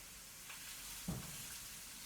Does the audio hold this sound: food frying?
yes